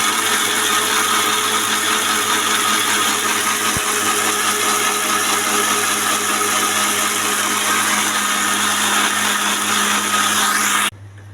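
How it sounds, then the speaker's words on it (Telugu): A kitchen mixer grinder whirs loudly and steadily as it blends washed fruit for juice in a lidded mixie jar with no water added, its dense motor roar running unbroken for about eleven seconds before cutting off abruptly. "మిక్సీ వేయాలి"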